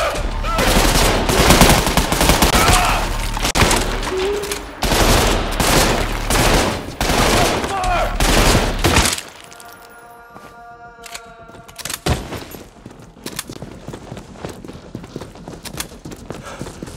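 Gunfire in the video game Trepang 2: loud rapid bursts of automatic fire fill the first half, then a lull with a ringing tone and a few scattered shots.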